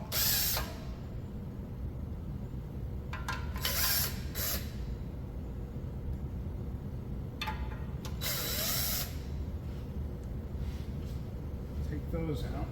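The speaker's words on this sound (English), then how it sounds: "Now these two, I'm actually going to hit with a ratchet. I'm taking those bracket bolts out." Ratchet spinning out bracket bolts during a cracked oil pan replacement, with bursts of clicking and creaking mechanism noise recurring over a steady low hum, heard up close.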